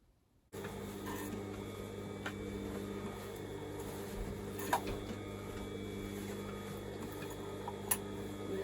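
A sewing machine running steadily while putting a second row of twin-needle-style topstitching around the hem of a skirt, a continuous near mechanical hum with faint ticking and a couple of sharp clicks, no voices.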